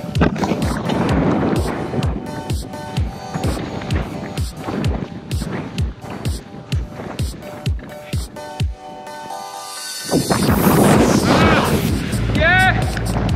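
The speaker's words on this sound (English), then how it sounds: "Definitely windy up here." Gusty wind buffets the microphone in rhythmic bursts, loud and close, and then becomes a steadier rush near the end. No voices are heard.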